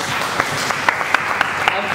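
Loud, dense applause from an open mic poetry audience, a steady wash of clapping with a few sharper claps standing out, continuous throughout.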